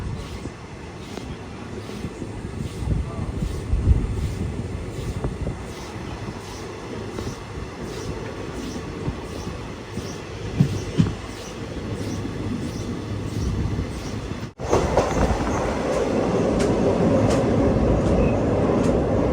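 A Mangaluru Express train, heard from a sleeper class coach after leaving Kannapuram station in Kerala, rumbles steadily along the rails with rhythmic clacking of wheels, the noise growing louder and harsher toward the end.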